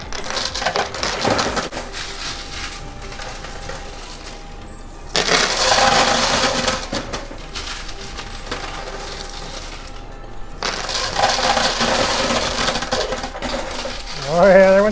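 A high-limit arcade coin pusher shoves coins and a chip over its edge, giving a long run of clattering metallic coin falls in bursts, loud and close, with the mechanical push steady underneath and a brief voice at the end.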